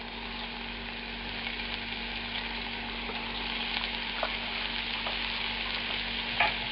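Floured saltimbocca cutlets of chicken or veal sizzle in a hot pan, a continuous crackling fry growing slightly louder, with a couple of small clinks and spatters near the end.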